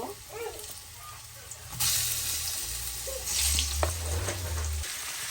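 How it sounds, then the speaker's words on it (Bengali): Potatoes frying in a pan give a bright, hissing sizzle that swells and eases, with low hum and a few clinks in the background and no speech. "আমি এখন একটু আলুটা ভেজে নিব"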